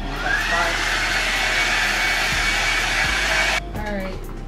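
A handheld hair dryer roars steadily and close while drying hair, a loud continuous whoosh that dips and changes tone near the end as the airflow shifts.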